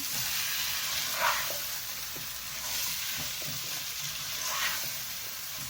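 Mixed vegetables frying on high heat in a pan, a steady close sizzle with faint stirring scrapes now and then, no voices.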